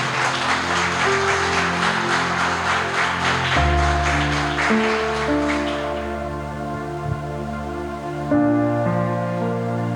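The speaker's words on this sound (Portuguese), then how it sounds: "Aplauda o Senhor Jesus" A church congregation applauds for Jesus over sustained keyboard music; the dense clapping fills the first few seconds, then thins and fades out by about six seconds while the music carries on.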